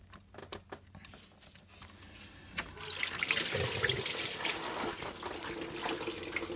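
Coolant drains out of a pulled hose on a Renault Clio 2, first a few light drips and taps, then a sudden steady gush of liquid pouring and splashing close by.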